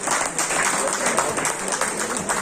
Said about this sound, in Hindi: हाँ जोरदार ताली